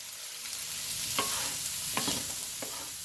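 Pacceri noodles and vegetables being stirred in a pan with sesame oil, producing a steady close sizzle broken by several scraping, clattering strokes of the utensil.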